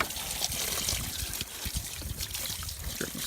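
A barrel of traps fills with running water, a steady close trickle and pour with bubbling splashes continuing throughout at moderate level.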